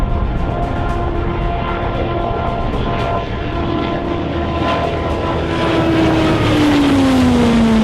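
A Sikorsky X2 high-speed compound helicopter flies past, a loud, sustained engine and rotor drone with a steady tone that drops in pitch near the end as it goes by.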